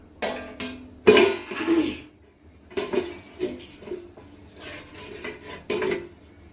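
A spoon scrapes and clinks around a metal cooking pot, then a lid is set down on it with a clatter, heard close and loud in short bursts with no talking.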